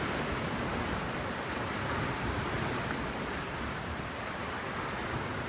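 Ocean surf and wind on the shore on a beautiful day form a steady, dense roar of breaking waves with constant wind noise against the microphone, loud and unbroken throughout.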